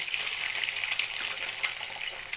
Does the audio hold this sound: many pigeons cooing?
no